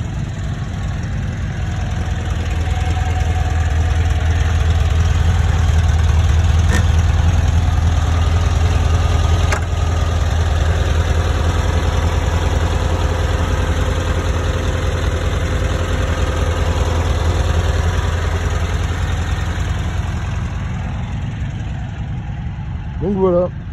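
A 1978 Volkswagen T2b Westfalia camper van engine idles steadily for the whole stretch, a low, even mechanical hum with a couple of faint clicks, nearby and alone.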